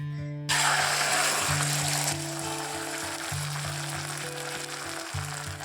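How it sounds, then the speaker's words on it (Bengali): Eggs fry in a pan with a constant crackling sizzle close by, over a low steady hum that continues throughout. "চলো তাড়াতাড়ি করে ডিম ভেজে বাড়ি যাই।"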